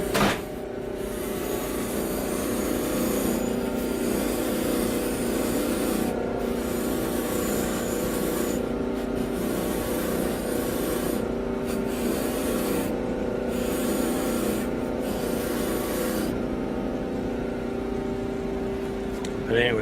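A metal spinner bracelet is burnished with continuous close rubbing and scraping strokes, broken by brief pauses, while someone talks intermittently over the work.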